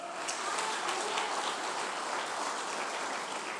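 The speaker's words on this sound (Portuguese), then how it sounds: "As palmas para o Senhor." A church congregation applauding together, a steady broadband wash of many hands clapping with no break, fairly distant and even in level.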